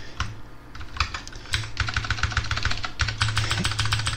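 Rapid, close clicking of computer keyboard keys while code is typed for a Qt interface, an irregular stream of crisp taps with brief pauses and no voices.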